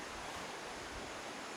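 Water of the Lubayat River at a riverside campsite rushes in a steady, dense wash, even and unbroken with no voices.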